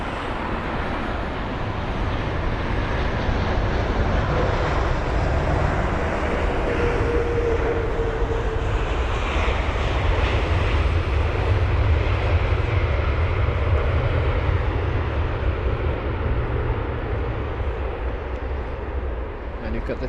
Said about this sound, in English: We've got the American jet up next, the American 777-200ER